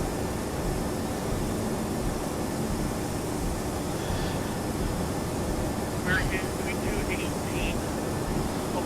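Aircraft engine drone and stormy hurricane weather in the Prepar3D flight simulator on a flight from Orlando to Miami, heard as a steady, dense roar that fills the whole stretch, with a few faint high chirps near the end.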